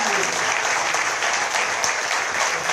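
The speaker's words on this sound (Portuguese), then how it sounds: "E se você crê, aplauda o nome de Jesus" A church congregation applauds together during a Portuguese-language evangelical service, a dense, steady wash of clapping that holds at full strength from start to finish.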